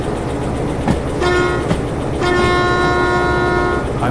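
A diesel-electric locomotive running in the railway game Derail Valley: a loud, steady low engine rumble, with two sustained harmonic horn blasts over it, one short and one longer.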